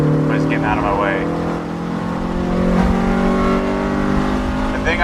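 A loud Honda EM1 Civic Si engine drones with a steady tone, intake induction noise prominent, rising and shifting slightly in pitch as it pulls, close by and continuous, with no voices.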